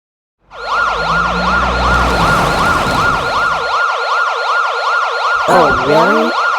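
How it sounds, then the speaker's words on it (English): Emergency sirens wail loudly and continuously, a rapidly cycling electronic tone that holds steady for several seconds before a second rising siren sweep cuts in near the end. "Sirens going off?"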